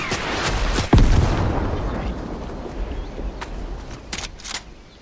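A rocket explodes near a cliff in Fortnite with a sharp, loud blast and a deep rumbling tail that fades over several seconds. Lighter pops and crackles of scattered gunfire come after it, with a voice speaking faintly underneath.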